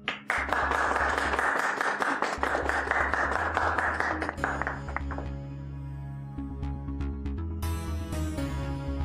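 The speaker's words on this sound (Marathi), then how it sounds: "टाळ्या" Applause in a Marathi TV serial scene: a dense burst of clapping for several seconds that thins out as tonal background sound takes over, with no speech.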